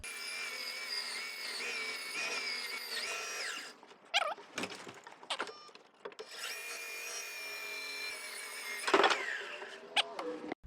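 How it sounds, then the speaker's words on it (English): A small bandsaw with a newer blade cuts a wooden crossbow stave, a steady high whine that is broken several times by harsh bursts as the blade bites into the wood, with no voices. "This little tiny bandsaw has a much newer blade on it, so I'm going to give that a shot for the next cut."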